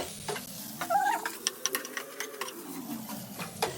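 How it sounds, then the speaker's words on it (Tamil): Boiled pasta stirred in a pan to coat it in flavour, with quick scraping strokes and light clicks of a spoon over a soft sizzle, close and fairly loud. "இப்போ நம்ம நல்லா வேக வச்ச பாஸ்தாவை இதில் தட்டி விட்டு அந்த ஃப்ளேவர் நல்லா மிக்ஸ் ஆகிற அளவுக்கு கிளறி விடணும்."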